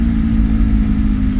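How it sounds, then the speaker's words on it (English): A Volkswagen TDI diesel engine runs with a harsh, rough tone, a loud, steady low drone with a gritty, uneven texture heard up close, no voices. "I don't think the engine's even sounding that good, to be honest with you. I feel like it's a harshness to it or something."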